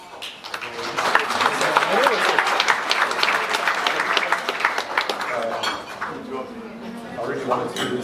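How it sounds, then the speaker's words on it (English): Guests at a wedding reception applauding, a mid-distance round of clapping swelling and holding for several seconds, with a faint clink of dishes and some cheering voices mixed in. "And now, please, a big round of applause, our best man, Sam."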